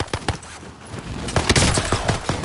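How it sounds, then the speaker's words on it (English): Rapid gunshots crack out in irregular bursts, sharp and loud against a busy background, several shots clustering together over a couple of seconds. "shots!"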